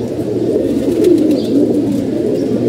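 A pair of small pigeons coo close by, a loud continuous low murmuring that wavers slightly with no breaks and no voices.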